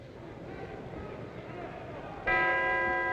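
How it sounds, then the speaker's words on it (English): A boxing ring bell rings out to end round one of a heavyweight bout between Harry Matthews and Danny Nardico, a single bright clang that rings on over crowd noise and commentary. "And the bell ends round one, ladies and gentlemen."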